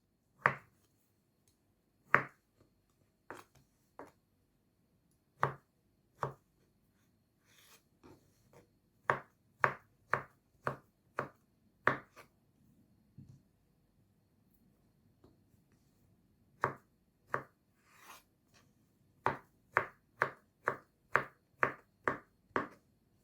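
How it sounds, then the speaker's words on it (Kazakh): Sharp knife chops through potatoes on a cutting board, cutting them into cubes, close and crisp, in irregular bursts with short pauses, ending in a quick steady run of strokes. "Енді картошканы тура солай 4 бұрыштығып турап аламыз."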